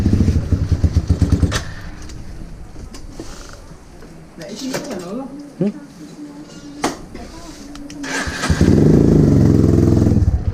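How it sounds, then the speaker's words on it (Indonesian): A motorcycle ridden through the Gandus area of Palembang in the late afternoon, its engine rumbling close and steady under the wind, with people talking over it and the engine swelling louder near the end. "Jadi motor kita naik aja."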